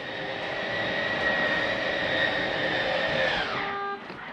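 An RV slide-out motor retracting a room gives a steady mechanical whine with a droning hum, holding level for several seconds before the pitch drops and it winds down near the end.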